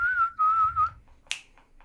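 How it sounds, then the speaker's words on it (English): A person whistles a sustained, wavering tune for about a second during an Overwatch gaming session, followed by a few sharp snaps or clicks, with no talking. "That was some really good whistling right there."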